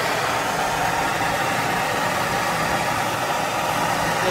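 A 120mm fan jet runs steadily, blowing air onto a blowtorch flame, giving a constant broadband whooshing roar that stays even and close throughout, with no voices.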